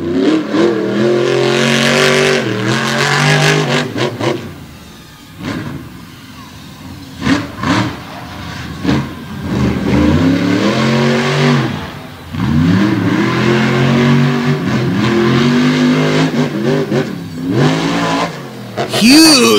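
A big Ford race truck from Wisconsin accelerates hard during an All Star Championship race, its engine revving loud and rising in surges, with a commentator talking excitedly over it.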